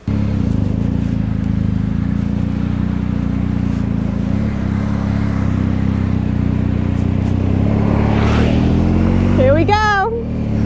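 A BMW R 1250 GSA motorcycle on its first ride, a steady loud engine drone with wind, rising in revs near the end.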